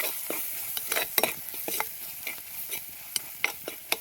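Chili powder masala stirred in a frying pan for a village-style sardine curry: a spoon scrapes and taps unevenly against the pan, close and fairly quiet, over a soft, steady sizzle.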